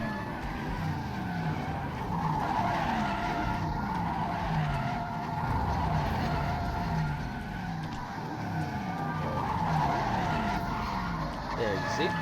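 Tires skid and squeal steadily from a car in the Resident Evil 7 video game, a loud, continuous screech with engine noise, while a person talks over it.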